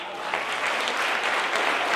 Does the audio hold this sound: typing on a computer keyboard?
no